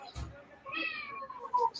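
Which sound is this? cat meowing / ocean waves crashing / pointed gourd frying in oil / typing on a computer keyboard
cat meowing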